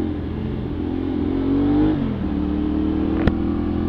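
A CFMoto 450SR motorcycle engine revs up steadily, its pitch climbing and then dropping back toward idle before a sharp click, heard close and continuous with no talking.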